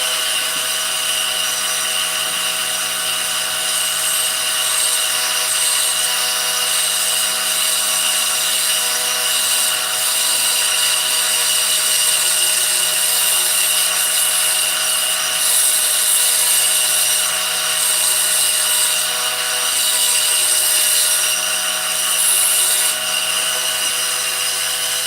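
High-speed rotary power tool with a football-shaped bit beveling a metal port in a Husqvarna 394XP chainsaw cylinder, a loud, continuous whining grind held steady throughout with no talk.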